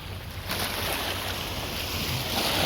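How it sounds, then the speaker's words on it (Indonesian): Steady beach ambience on Pulau Untung Jawa, an island near Jakarta: waves wash and surge continuously with boat engines and wind mixed into a fairly loud, even wash, and no voices. "ini suasana yang ada di Pulau Untung Jawa"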